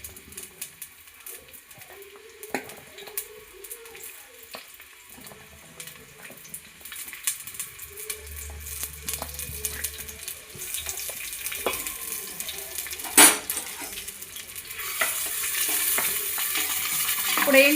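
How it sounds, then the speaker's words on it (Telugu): Two large onions sizzle and fry in hot oil while being stirred, with steady crackling and occasional scrapes of a utensil against the pan, growing louder and busier toward the end. "ఇప్పుడు 2 పెద్ద సైజ్ ఆఫ్ ఆనియన్లని మనం ఆయిల్లో ఫ్రై చేసుకుందాం"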